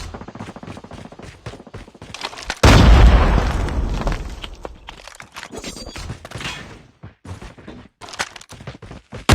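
A grenade goes off in Call of Duty Mobile gameplay with a loud, deep blast that rolls on for several seconds. Rapid gunfire crackles before it and continues sporadically afterward.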